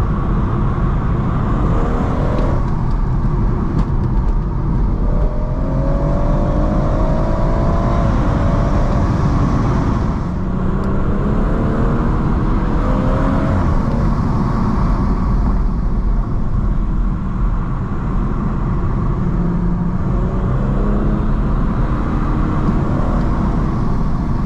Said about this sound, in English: flatten the throttle